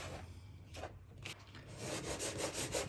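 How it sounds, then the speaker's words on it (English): Butter being rubbed into flour by hand for bread dough, a soft, continuous close-up rustling and gritty rubbing that swells slightly in steady strokes. "you want to rub the fat into the flour until it resembles breadcrumb"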